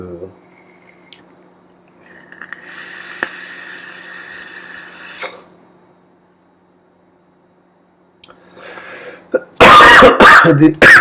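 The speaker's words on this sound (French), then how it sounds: "Désolé pour la toux parasite, c'est pas agréable" A short burst of harsh coughing near the end, loud and close, following a stretch of quiet background hum and mechanical noise.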